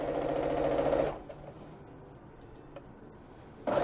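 A sewing machine stitches pieces of a quilt blanket, running in a steady whirring burst, pausing for a few seconds with faint ticks and handling sounds, then starting up again.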